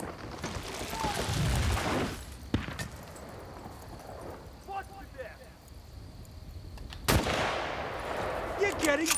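Sniper rifle shots in Battlefield: Bad Company, a few sharp, loud cracks standing out from game ambience, with a player talking over parts of it.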